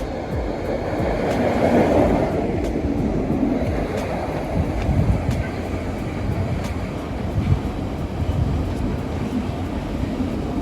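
A train rumbles past steadily at close range, a loud continuous roar of wheels and rails with faint periodic clicks above it.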